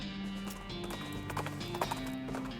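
Steady clip-clop of horse hooves from the Western comedy video game West of Loathing, an even walking rhythm with a brief whinny-like accent near the end, over faint background music.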